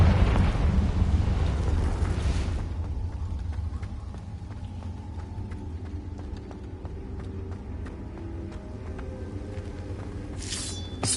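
A Confringo fire spell explodes in Hogwarts Legacy, a loud broadband burst in the first couple of seconds that rolls off into a lingering rumble with scattered crackles and game ambience.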